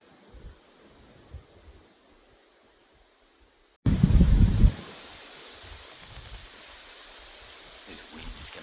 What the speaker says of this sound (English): This wind is going to make it difficult